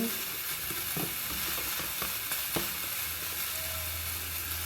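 Spices sizzle in a pan with ginger paste, salt, turmeric, chili powder and cumin powder, a close, steady frying hiss with repeated scraping stirs throughout.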